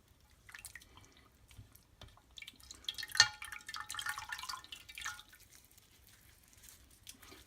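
Water drips from an absorbent towel soaked in electrolyte for a voltaic pile battery. The drips and soft splashes are quiet and irregular, with one sharper drop near the middle.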